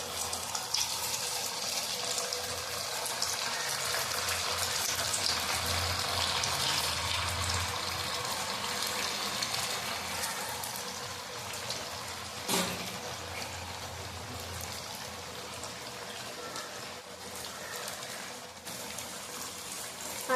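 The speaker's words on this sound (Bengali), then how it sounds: "তেল গরম হয়ে গেছে, এবার আমি একে একে পিঠেগুলো দিয়ে দেব।" Stuffed pitha cakes pricked with a fork deep frying in hot oil, a continuous loud hiss and crackle of bubbling oil, steady throughout with occasional sharper pops.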